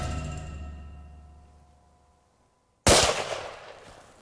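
A single rifle shot from a .300 Winchester Short Magnum fired while hunting: after a fading low hum and near silence, one sharp, loud crack bursts out and rolls off into a decaying echo.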